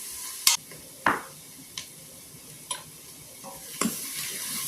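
Ham and bean soup is stirred in an Instant Pot, with a spoon giving a few sharp clinks and scrapes against the metal insert, spaced about a second apart over a quiet background.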